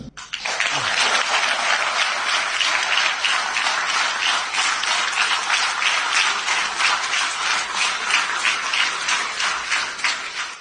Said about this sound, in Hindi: लोगों ने इतनी ताली बजाई है